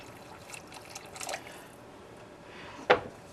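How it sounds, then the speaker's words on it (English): Hot tap water splashes briefly into a soup pan during beef stew preparation, a short pouring burst near the end over a quiet kitchen background, with no talking. "you want to put as hot a water as your spigot has in it"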